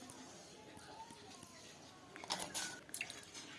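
A little water is poured into a mixer jar over soaked chana dal and salt, a short burst of splashing and dripping near the end after a quiet stretch, close and faint.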